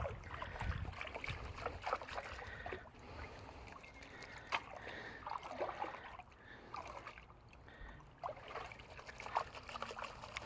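Wet gravel sloshing and grinding in a gold pan as it is shaken, irregular swishing water and rattling stones at close range, with no voices.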